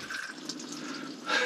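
Tap water runs through a Triflow filter in a steady rushing stream that swells louder near the end as the flow changes.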